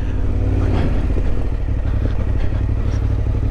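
A Yamaha Tenere 700 motorcycle under way, its engine a steady, loud, close rumble with a faint rattle running through it and no talk.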